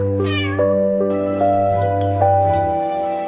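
A kitten meows in a children's nursery song, a short rising cry near the start followed by further mewing over sustained musical tones.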